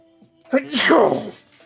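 A single loud, close sneeze bursts out with a sharp breathy explosion after a quick inhale.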